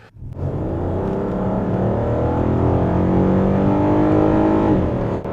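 A Skoda Superb 3.6 V6 accelerates hard on a highway, its engine note climbing steadily in pitch toward the redline in one sustained, loud in-cabin pull.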